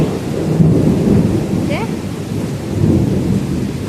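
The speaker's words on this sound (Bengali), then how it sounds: "কিরকম বৃষ্টি হচ্ছে, দেখো ওরে বাপরে, যেমন বৃষ্টি তেমন বজ্রাহাত" A thunderstorm rumbles low and close while heavy rain pours down steadily, a dense roar with no speech heard.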